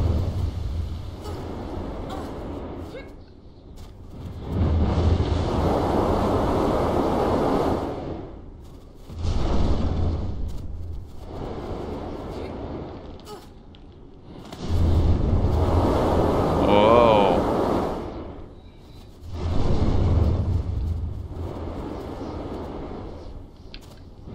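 Strong wind blows in the video game Never Alone, gusts swelling and dying away in repeated waves every few seconds, loud and rushing at each peak.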